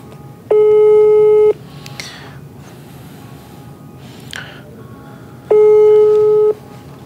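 An outgoing telephone call to a lawyer rings, with two long steady ringback tones about five seconds apart, loud and close, and soft breathing and rustling in between.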